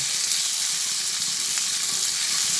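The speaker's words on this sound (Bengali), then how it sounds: "পেঁয়াজগুলো অল্প ভাজা হতে হতেই এর মধ্যে কুচানো রসুন দিয়ে দিলাম আর আদা দিয়ে দিলাম" Sliced onions with chopped garlic and ginger frying together in a pan for an Afghani egg curry, giving a loud, continuous sizzling hiss with no voices over it.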